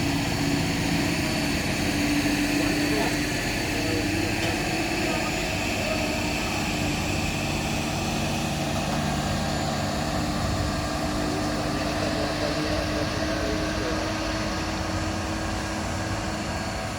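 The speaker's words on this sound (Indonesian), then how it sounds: "ini dia penarikan truk kol diesel yang tidak naik tadi bosku, ditarik oleh truk tangki Hino" Hino tank truck towing a Colt Diesel truck, a steady, droning diesel engine with a low hum and faint higher whine, held evenly for the whole stretch at moderate distance, no talk.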